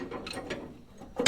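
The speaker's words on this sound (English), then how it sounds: "I'm going to undo this clamp now" A clamp is undone during a 1934 Plymouth rally car rebuild, giving a short mechanical ratcheting click and rattle of metal parts. A louder clack closes the moment, close up and with no one talking.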